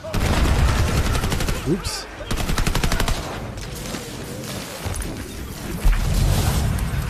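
Pistol fire in the Tiny Tina's Wonderlands video game, a dense run of rapid close shots with overlapping game effects, broken by a short pause, with a voice speaking briefly over it.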